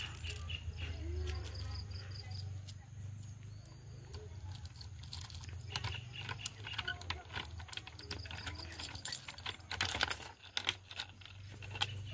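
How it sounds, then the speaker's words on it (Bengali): A key is worked into a kitchen door lock, producing scattered metallic clicks and rattles that grow busier toward the end, while birds chirp faintly in the background and a low hum lingers. "এবার আমি রান্নাঘরের চাবিটা খুলবো"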